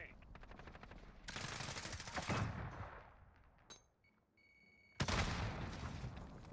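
Grau 5.56 rifle fire in Call of Duty Warzone, rapid automatic bursts close and loud, a long rattling string, a pause with a brief single shot and beeping, then another burst.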